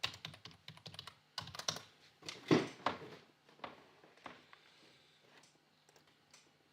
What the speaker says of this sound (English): Who's typing here?